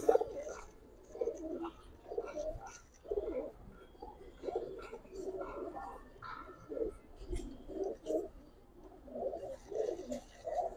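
Army fair pigeons coo in repeated soft, throaty bursts, a steady rhythm of low calls close by with faint background noise.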